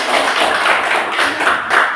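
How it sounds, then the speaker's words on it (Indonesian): A school class claps together during a lesson, a short, fairly loud burst of many hands with a few rhythmic swells and no talk over it. "Tepuk tangan dulu untuk jawaban."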